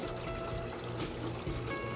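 Water trickles steadily from the loosened lid of a filter being cleaned, a continuous close splashing flow with no pauses and no voices.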